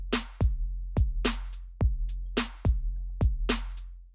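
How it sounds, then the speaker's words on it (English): A programmed Ableton Live drum loop of booming kicks and bright snares, with short off-beat eighth-note hi-hat ticks in between, repeats in a steady, punchy groove, loud and up front with no voices. "And we will add in some kind of off time 8th note hi-hats."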